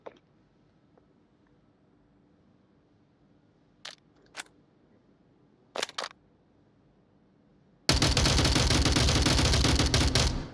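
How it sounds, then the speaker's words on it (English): Gunfire in the VR shooter Onward: a few isolated sharp shots spaced apart, then a sudden loud sustained burst of rapid automatic return fire. "There are the shots, and then the return fire."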